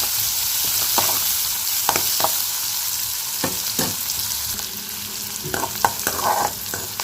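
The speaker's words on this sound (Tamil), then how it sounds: "வெங்காயத்தை சேர்த்து வெங்காயம் சேர்த்து நல்லா வதக்கிக்கலாம்" Onions sauté in a pan for banana stem kootu, a steady close sizzle broken by repeated scraping stirs of a spatula, with no talking.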